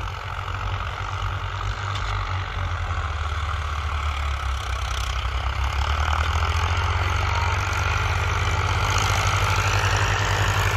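Two two-wheel-drive tractors of the same horsepower class idle side by side, a steady loud low diesel rumble with a throbbing hum that holds unchanged throughout, close by.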